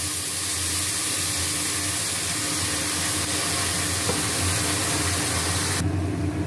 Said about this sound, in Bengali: জল দিয়ে দিলাম, গরম জল।